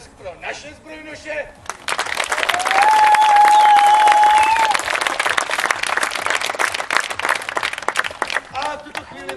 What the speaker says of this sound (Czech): Nyní speciální potlesk pro naše zbrojnoše.